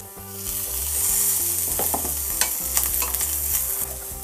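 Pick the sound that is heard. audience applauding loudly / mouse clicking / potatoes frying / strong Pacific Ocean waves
potatoes frying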